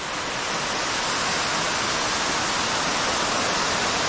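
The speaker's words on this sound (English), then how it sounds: "I hear water below me." Steady, dense rush of a waterfall inside a cave, a broad continuous roar with no breaks, echoing in the enclosed space.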